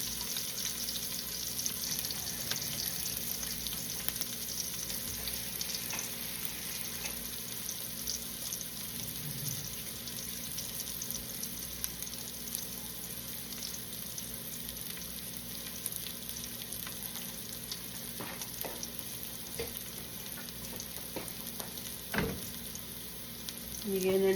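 Shrimp stir-fried for shrimp pancit bihon, a steady broadband sizzle of frying running throughout with occasional scrapes and clanks of stirring, close and fairly loud, with a brief stronger clatter near the end.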